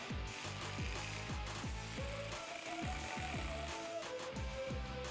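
A ratchet tightens the intake hose clamps on a 2018-2020 Ford F150 with the 2.7L EcoBoost during a cold air intake install, its rapid clicking strokes repeating in close, loud bursts with no voices.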